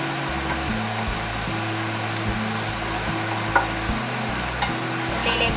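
Chopped onion, ginger and garlic are stirred in a hot frying pan for Malabar-style chicken cutlet, giving a steady, close frying hiss with soft scraping throughout and a low droning hum underneath.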